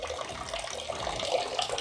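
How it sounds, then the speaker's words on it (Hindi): Water runs steadily from an opened tap on a homemade instant water heater, a continuous splashing rush at moderate level with no pauses. "और ये मैंने टैप वहाँ से खोल दिया है"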